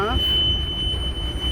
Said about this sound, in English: we have a high water alarm going off